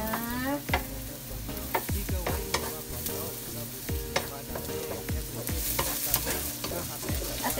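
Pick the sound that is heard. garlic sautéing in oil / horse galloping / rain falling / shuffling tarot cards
garlic sautéing in oil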